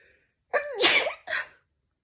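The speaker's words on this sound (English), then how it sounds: "Now I gotta sneeze." A single close sneeze: a short sharp intake of breath, an explosive burst, then a brief trailing exhale.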